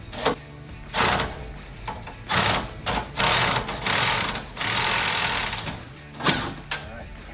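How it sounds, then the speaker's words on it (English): Cordless impact wrench tightening a suspension bolt while installing a rear lowering kit on a 2015-2020 Ford F150, several short rattling bursts of hammering with pauses between, close and fairly loud. "impact is not the greatest, but it works"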